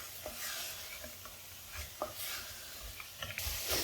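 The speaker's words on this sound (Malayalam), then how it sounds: "മസാലയൊക്കെ നന്നായിട്ട് മിക്സ് ചെയ്ത്" A spoon scrapes and taps in a pan as soya bean masala is stirred, with a quiet sizzle underneath and several irregular clinks.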